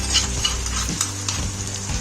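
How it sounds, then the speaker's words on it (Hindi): Onions and ginger-garlic paste sizzle steadily in a pan over a medium flame, a continuous close frying hiss with occasional soft stirring scrapes and no speech. "ये हमारा प्याज अच्छे से फ्राई हो रहा है मीडियम फ्लेम पर।"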